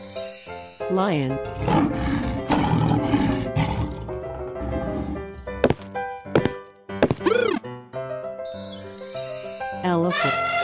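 A lion roars amid a busy cartoon-style soundtrack, its loud, throaty bursts overlapping music, jingles and chimes in a playful animal-sound sequence.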